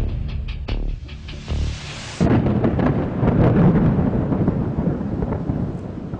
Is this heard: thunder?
yes